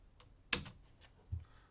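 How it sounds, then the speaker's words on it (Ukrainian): A single sharp keypress on the space bar of a computer keyboard, close and clean, followed by a fainter soft tap. "Клацаю пропуск"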